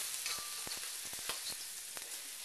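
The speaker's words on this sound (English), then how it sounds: "I place that in the wok, about a tablespoon or a tablespoon and a half. You can hear it sizzling." Minced garlic and ginger sizzle in a hot wok for a beef and broccoli stir-fry, a steady close frying hiss broken by sharp crackles and pops.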